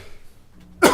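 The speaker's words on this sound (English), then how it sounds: "I'm on about week 4 of this cough that I had it since January." A single sharp, loud cough bursts out near the end of a quiet moment at a county commission meeting, from someone with a lingering cough of several weeks.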